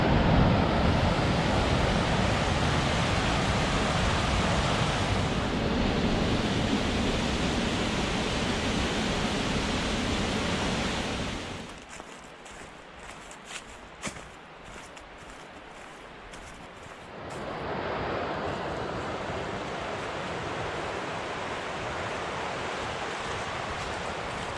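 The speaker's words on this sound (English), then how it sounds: "Ike Camp Branch flowing into the South Fork of the Citico Creek" Ike Camp Branch pours into the South Fork of Citico Creek in the mountains, a loud continuous rush of flowing water that drops sharply for several seconds midway, leaving quieter gurgling, then swells back up close to the microphone.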